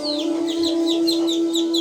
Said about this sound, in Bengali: দেখেন আমার খামারের চীনা হাঁসের বাচ্চাগুলো মাশাল্লাহ এক মাস বয়স হয়ে গেছে